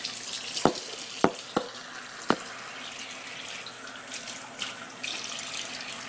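A sink faucet runs with a soft continuous hiss of water, broken by a few sharp clicks and clatters nearby, fairly quiet and without speech.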